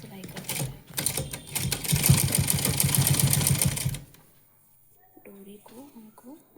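Dense, rapid mechanical chatter of a sewing machine stitching cord into a dress runs for about four seconds, then stops; someone speaks quietly afterward.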